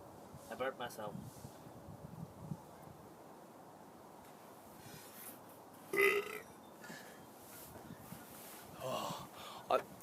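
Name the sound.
burp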